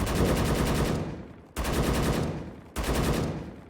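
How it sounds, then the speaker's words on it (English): Gunfire in the video game Project Delta: three loud, rapid automatic bursts, each a dense rattling volley that tails off before the next begins, close and alone. "If this guy's right in front of me and he's shooting at me, I'm not gonna aim in, then shoot him."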